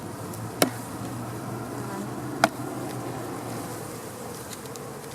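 A low steady hum of many honey bees droning nearby at a hive, with two brief sharp clicks breaking through the continuous buzz.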